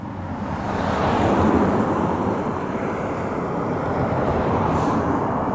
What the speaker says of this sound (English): Excuse the noise of the cars.